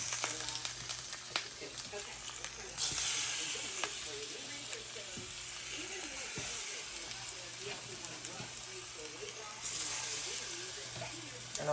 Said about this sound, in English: Now we're going to start putting the plantain in here.